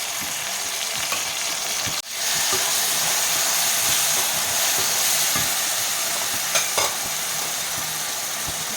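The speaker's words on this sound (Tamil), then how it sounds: "இப்போ வெங்காயம் வந்து நல்லா வதங்கி வந்துடுச்சு. இப்போ வந்து இஞ்சி பூண்டு பேஸ்ட் சேர்த்துக்கலாம்." Onions sauté in a pan with ginger garlic paste for a prawn curry, giving a loud, steady frying sizzle and hiss throughout, with a brief clatter near the middle and no talk.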